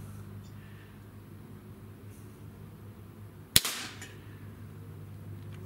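A single sharp crack from a Barra Schofield .22 caliber pellet pistol, fired once about midway through against a low steady hum, followed by a short fading tail.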